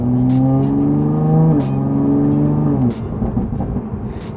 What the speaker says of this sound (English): God, this exhaust is rowdy.